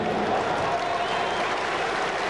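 A large crowd claps loudly and continuously at the 1993 NHL Draft in Quebec City, a dense unbroken wash of applause filling the arena.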